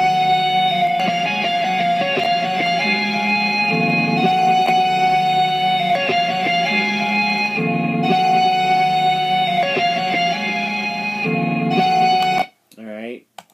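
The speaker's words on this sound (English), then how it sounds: "you could hear my hand going off of the guitar" A recorded guitar solo plays back in Mixcraft software, with sustained, ringing notes in repeating phrases at a steady, fairly loud level, ending abruptly with a brief voice.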